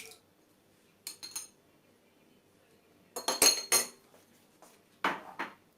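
A spoon clinks against a bowl while sugar and yogurt are stirred into cookie batter, in a few short bursts of scraping and clinking separated by quiet pauses.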